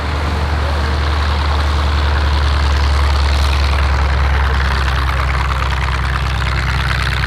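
Hawker Tempest warbird at a UK airshow, a loud, steady low engine roar with a broad rushing hiss, sustained and close, with no talk over it.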